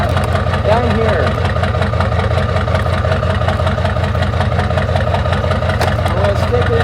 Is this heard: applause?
no